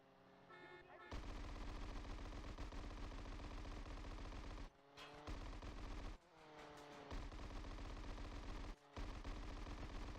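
Forward-mounted machine guns on a flying RC plane in GTA San Andreas fire in long rapid loud bursts, broken by a few short pauses, with no talk over the shooting.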